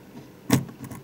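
A tablet screen snaps into its plastic keyboard dock with a single close, sharp click and clatter amid quiet room tone, on a Linx 1010 tablet.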